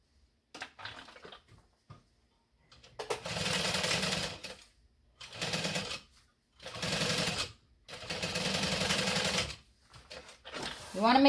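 A sewing machine stitching a bucket bag runs in four short bursts of rapid mechanical whirring, close and clear, with pauses between and faint movement at the start.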